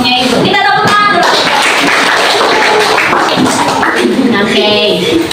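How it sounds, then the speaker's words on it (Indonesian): A classroom audience applauds a student group about to present, a loud, dense burst of many hands clapping at once, with a voice speaking over parts of it. "Kita tepuk tangan dulu"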